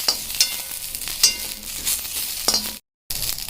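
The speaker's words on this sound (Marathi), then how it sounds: "आपल्याला थोडेशा मिरच्या हलक्याशा भाजून घ्यायच्या आहेत" Green chillies frying in a pan for a country-chicken curry, a steady bright sizzle broken by a few clinks and stirring scrapes, with a brief dropout near the end.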